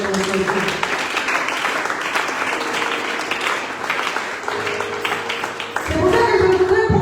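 A church congregation bursts into sustained applause and cheering for the Lord, loud and dense throughout, with voices calling out within the crowd near the end.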